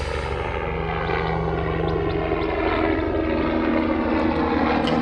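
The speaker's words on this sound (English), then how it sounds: "Helicopter." A helicopter flies overhead with a steady, loud droning engine and rotor roar that holds constant and close throughout, with no talking.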